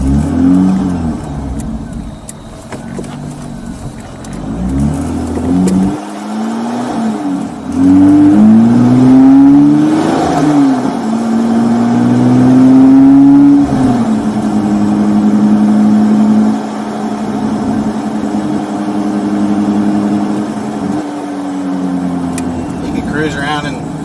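The engine of a 500-horsepower Mini revs repeatedly, rising and falling through long swells over about twenty seconds. It is loud and close, with a steady idle between the revs.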